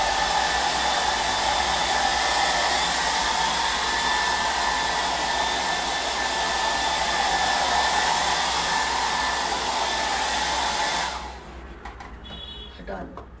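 A hair dryer blows steadily on permed hair, a loud continuous whooshing roar that runs for several seconds before cutting off abruptly near the end, leaving a quieter room.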